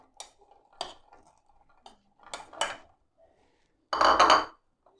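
Boiled black-eyed beans (lobia) tipped into a bowl for a fruit cream chaat, a few light clinks and taps of utensils followed by one louder, fuller clatter near the end.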